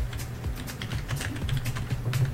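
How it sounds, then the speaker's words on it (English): Rapid typing on a computer keyboard, with dense, irregular key clicks over a low background hum, close and fairly loud, with no voices. "I'll type it into the chat."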